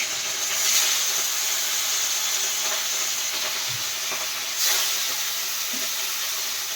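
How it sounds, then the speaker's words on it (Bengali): Rohu fish frying in ghee and spices in a wok gives a steady, close, loud sizzle and hiss that runs the whole time, with a few brief spitting crackles and no talk. "কড়াতে দিয়ে দেওয়া হলো মাছ"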